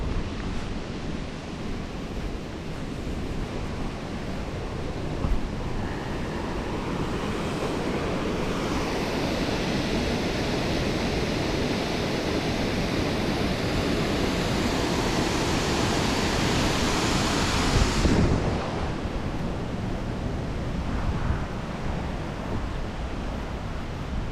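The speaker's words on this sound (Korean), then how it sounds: "잠시 폭포를 또 보고 가야죠." A waterfall on a spring-morning walk gives a steady, loud broadband roar with some wind buffeting the microphone. The rush swells slightly toward the end and goes on without any voices.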